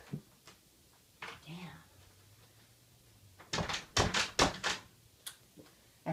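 A broken interior door bangs shut in a quick cluster of loud thuds and rattles, preceded by a few softer knocks, with a person speaking in the room.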